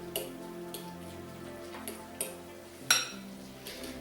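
A few light clinks and taps sound as Bermuda onion is mixed into a salad in a bowl, sparse and quiet with one sharper knock midway.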